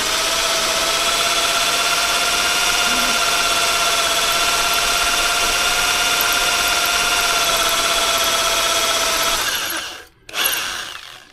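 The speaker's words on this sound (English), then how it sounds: "So I'll just back the drill off." A power drill boring out a stuck exhaust stud, running at a steady high-pitched whine for about ten seconds close by, then cutting out briefly before spinning up again.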